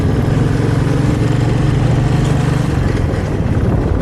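An army vehicle on a road in Mizoram passes close by with a loud, steady engine drone that holds without a break.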